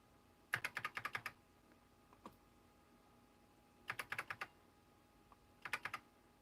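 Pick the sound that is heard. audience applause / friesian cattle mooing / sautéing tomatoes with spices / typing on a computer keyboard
typing on a computer keyboard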